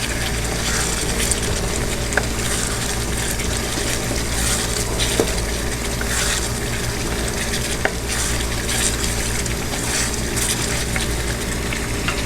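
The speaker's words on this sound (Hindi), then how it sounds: "उसके बाद धनिया और ज़ीरा पाउडर, उसको फ्राई करेंगे" Coriander and cumin powder fry in a pan for a white chicken korma, giving a loud, continuous sizzle with a few sharp clicks of a utensil against the pan, close-miked and without speech.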